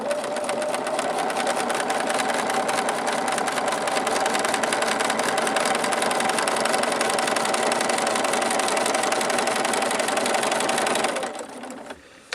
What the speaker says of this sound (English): we're going to start outside the cutting line and stitch our way all the way across